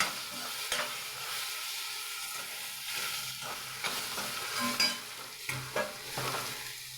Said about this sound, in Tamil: அந்த வெந்தயத்தை அதில் போட்டு அந்த முள்ளங்கியை நெருக்கி வச்சுக்கிட்டு அதில் போட்டு நல்லா வதக்கணும்